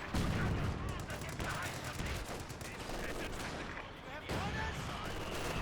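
Soldiers firing guns in the Company of Heroes 2 war game, a dense continuous clatter of rifle and machine-gun fire with artillery-like booms, steady and loud throughout.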